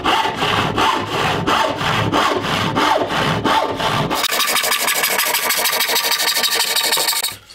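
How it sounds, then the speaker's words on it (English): A hand saw cuts a wooden board clamped in a bench vise on a heavy workbench, with rhythmic back-and-forth strokes that quicken into rapid, even rasping toward the end; close and clear, no talk. "I can make use of that beautiful bench, that nice hefty weight, and the bench vise to cut my piece here"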